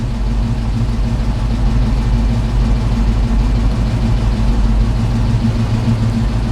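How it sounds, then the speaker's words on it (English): Car engine fitted with Holley EFI idling while it warms up, a steady loud low rumble that holds even throughout with no talk. "So we'll just wait for the engine to warm up a second."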